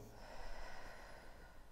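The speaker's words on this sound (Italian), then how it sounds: "Adesso mi fai tre bei respironi belli profondi" A patient takes a deep breath during a chiropractic session, exhaling in one long, soft, airy rush heard up close with no talking.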